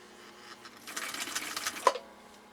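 A 1959 Husqvarna Viking CI-21A sewing machine stitches through heavy, Kevlar-like fabric, heard close up as a quiet, fast mechanical run of about a second, ending with a sharp needle strike.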